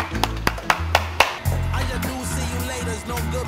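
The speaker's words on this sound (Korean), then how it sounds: "회장님께 박수 한번 주세요." A small group claps for a raw-fish restaurant owner at a seaside spot in Haenam: a few sharp separate claps, then a quick burst of overlapping applause that continues under background voices.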